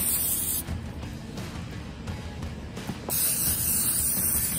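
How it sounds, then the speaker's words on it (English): A steady aerosol-style hiss of extra virgin olive oil being sprayed onto Cornish hens runs for several seconds, broken by brief pauses, fairly close and moderately loud with no talking. "Spray it, coat it real good."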